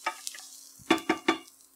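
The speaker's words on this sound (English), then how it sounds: "we're just gonna let this cook a little bit until the onions are translucent" Onions and taco seasoning cook in a Ninja nonstick pan, a quiet sizzle broken by a few sharp scrapes and taps of a utensil stirring, close and alone without talk.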